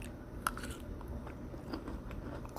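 Someone bites into a crunchy raw topi tambo tuber, giving one sharp, close bite followed by faint chewing crunches against a low steady background.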